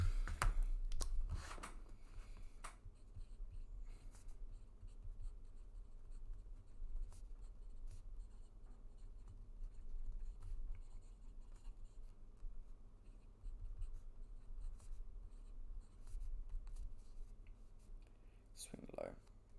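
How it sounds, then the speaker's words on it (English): Pen writing notes by hand on paper at a desk, a soft continuous scratching that runs steadily throughout, close and quiet, with a few louder handling bumps at the start and end. "I'm going to write this down because I don't want to forget it."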